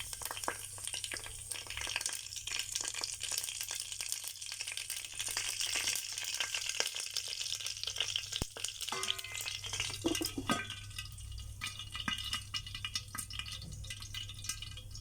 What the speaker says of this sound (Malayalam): കടുക് ഉലുവ എല്ലാം പൊട്ടിയിട്ടുണ്ട്